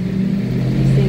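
Car engine in fourth gear on a hub dyno test ramp, a loud steady mid-pitched drone that climbs slightly as it revs over about a second.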